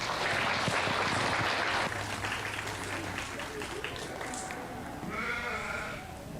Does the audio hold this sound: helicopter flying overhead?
no